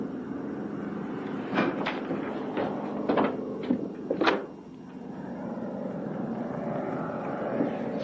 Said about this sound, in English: Sounds like a British plane.